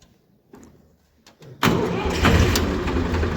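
A tractor engine cranks after a few faint clanks, then catches and roars into a loud, steady running rumble close by. The setting is a village mini oil mill, and no one speaks.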